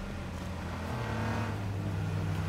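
Cars drive in H1Z1 battle royale, a steady engine drone rising in pitch as a vehicle revs and accelerates, moderately near and fairly quiet, with no talk over it.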